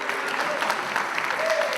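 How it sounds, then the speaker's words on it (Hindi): An audience at an Eid mushaira poetry gathering breaks into steady, full applause that welcomes a poet to the stage, dense clapping that stays even and moderately loud throughout. "आपकी भरपूर तालियों में"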